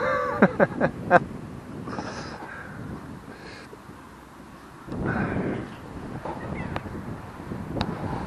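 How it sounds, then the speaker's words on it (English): Gusty wind blowing outdoors in an open field, rumbling against the microphone in swells, with a crow cawing a few times near the start and brief laughter and voices nearby. "the wind's picking up"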